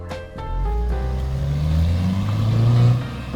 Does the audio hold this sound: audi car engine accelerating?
yes